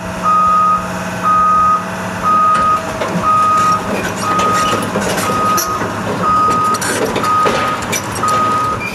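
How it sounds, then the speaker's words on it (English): An excavator at a backyard shop site sounds loud, evenly spaced reversing beeps over a steady engine rumble, heard close with no voices. "And now come the first player, the excavator."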